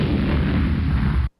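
A loud, sustained rumbling explosion effect representing the Big Bang fills the clip, then cuts off abruptly into silence.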